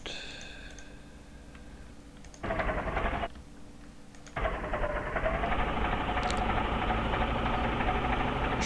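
A Fiat 70-56 tractor engine in Farming Simulator 15 gives a short burst of engine rumble, pauses, then settles into a continuous droning run over a low background hum.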